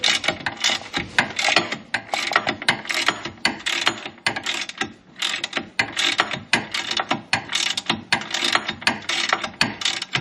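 Ratcheting wrench loosening bolts on a Can-Am Canyon three-wheeler during drive belt removal, heard as rapid close clicking pawl bursts repeating steadily with brief pauses, no talk.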